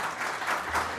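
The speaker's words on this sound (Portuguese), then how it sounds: "Edson, por favor, uma salva de palmas para o Edson." A round of applause at an industry sustainability workshop as a guest is welcomed, a short burst of many hands clapping fairly loudly and evenly.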